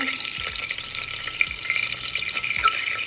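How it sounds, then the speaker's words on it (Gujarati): Spices tempering in hot oil for dal, with asafoetida added, give a close, continuous sizzle and crackle with small pops and some stirring, no talking. "અને એ વઘાર મુકાઈ ગયો છે"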